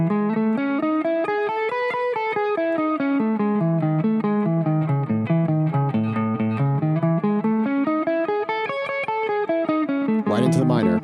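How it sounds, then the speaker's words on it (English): Electric guitar picks two notes per string through a major shape, leading with downstrokes and then upstrokes. The rapid, even notes climb and fall in steady sequences, played loud and close with no voice, ending in a short noisy burst. "We're going to be going leading with downstrokes, right into leading with upstrokes for the major shape,"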